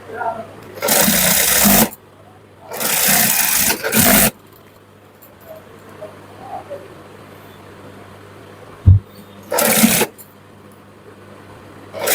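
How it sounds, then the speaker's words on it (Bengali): A plain sewing machine press-stitches the side seam of a shirt in three loud bursts of running stitches, each lasting about a second, separated by quiet pauses with faint handling sounds and a sharp knock between them. "শার্টের সাইডের চাপ সেলাই কিন্তু এইভাবে তৈরি করে দেওয়া যায় প্লেন মেশিন দিয়ে"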